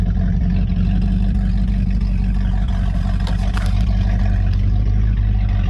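Skeeter ZX200 bass boat outboard motor running steadily on Lake of the Ozarks, a loud continuous low engine drone with a brief rise partway through.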